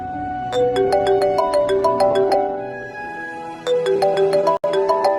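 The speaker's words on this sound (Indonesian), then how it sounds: "Kamu berdering, siapa yang nelfon?" A bright electronic phone ringtone melody in the video game Sakura School Simulator repeats with a short tonal pattern, loud and steady, briefly cutting out near the end before resuming.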